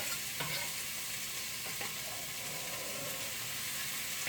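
Garlic and onions sizzle in a hot pot for homestead bean soup, a steady frying hiss with a few soft clicks of stirring, fairly quiet and alone with no talk.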